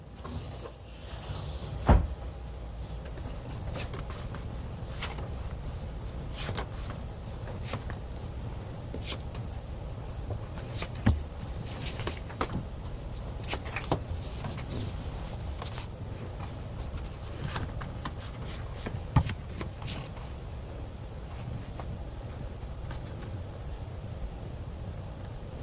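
Tarot cards being shuffled and drawn: a long run of soft papery rustles and slides, broken by sharp snaps and taps as cards are cut, laid down or flipped, close by and without talk.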